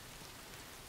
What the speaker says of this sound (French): là, il y a de la pluie partout